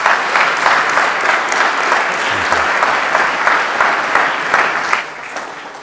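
Sustained audience applause at a community event welcoming a school district speaker to the stage, steady dense clapping throughout that tapers slightly near the end.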